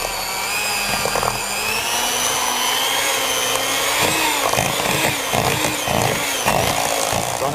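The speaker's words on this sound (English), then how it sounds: "gone ahead and beaten this for 5 minutes on high speed." An electric mixer whirs steadily on high speed while beating French silk pie filling, a loud, continuous motor drone with a slight wavering pitch and faint knocking of the beaters against the bowl.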